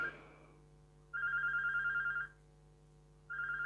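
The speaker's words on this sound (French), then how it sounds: "j'ai un téléphone qui sonne" A telephone rings in two electronic bursts, each about a second long, separated by a pause, clear and moderately loud over a low steady hum, with no talk.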